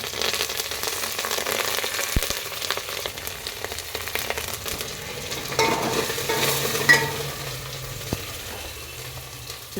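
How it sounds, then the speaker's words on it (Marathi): Coconut and garlic tempering sizzles in hot oil, a steady crackling fry with occasional stirring scrapes and clinks, close up and without speech. "तर तेल मस्त तापलंय आपलं. खोबरं आणि लसणाची फोडणी देऊन घेऊयात."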